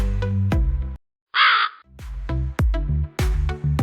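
Several loud, harsh crow caws ring out in quick bursts, with a short pause, then more caws follow close by.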